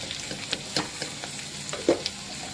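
Masala with salt sautéing in a pan for a sardine curry, a soft sizzle broken by a few brief spoon clicks and scrapes.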